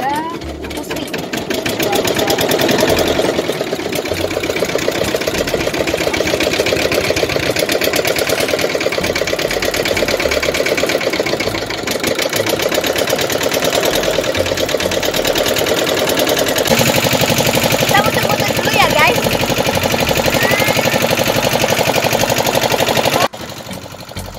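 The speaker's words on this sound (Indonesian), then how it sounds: "Yang aku naiki ini namanya perahu ketek ya guys." Loud, steady chugging rattle of a small ketek longboat engine running close by throughout on the Musi River, with voices faintly talking under the noise.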